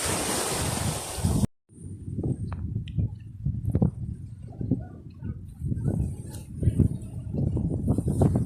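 Surf washes onto the beach at White Island, Mantigue, strong and windy with heavy microphone wind buffeting at first, then a cut and softer rolling waves breaking at a middle distance.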